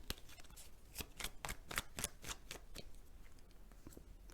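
A deck of tarot cards is shuffled in a quick series of crisp riffling flutters and taps, faint and close, with no voices.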